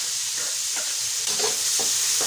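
Tomato frying with garlic in a pan for ampalaya guisado gives a steady, close sizzle. Occasional stirring scrapes come through, and no one talks.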